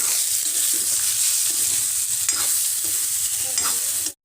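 Ridge gourd frying in oil with salt and turmeric, stirred in the pan, giving a steady bright sizzle with scraping stir sounds throughout before it cuts off abruptly.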